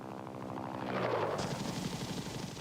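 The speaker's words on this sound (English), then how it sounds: "For the Army, the basic infantry transport helicopter was the UH-1 Huey." Rotor thump of a UH-1 Huey military transport helicopter, a steady rhythmic chopping held at a constant loud level, mixed with dense battlefield noise and no talk.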